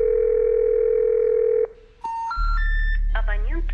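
A steady telephone tone repeats on an unanswered call in the game Heirs, then cuts off. A few rising electronic beeps follow over a low hum, with no one picking up.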